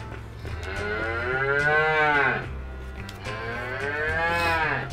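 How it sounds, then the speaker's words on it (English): Two long, drawn-out cow moos from the Fairly OddParents Shadow Showdown video game, each rising and falling in pitch, loud and close over a low looping game music bed, with no talking. "I was wondering why there was a cow over here."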